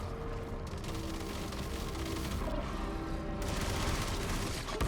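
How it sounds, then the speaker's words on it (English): Enemy gunfire fills a session of the video game Armatus, with dense, rapid bursts of shots and blasts over a continuous loud game background, rising at the end. "Oh, I'm getting shot at."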